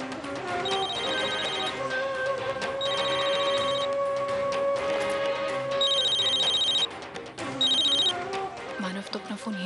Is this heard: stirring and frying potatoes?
no